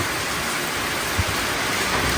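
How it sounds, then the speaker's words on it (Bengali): Heavy rain pours down steadily in a dense, continuous hiss with no pauses, close and loud throughout. "প্রচণ্ড বৃষ্টি আসছে"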